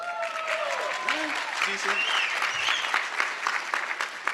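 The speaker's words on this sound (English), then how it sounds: "Round of applause." Audience applause filling a hall during a city mayor's State of the City address, a steady wash of clapping lasting a few seconds while a voice speaks briefly over it.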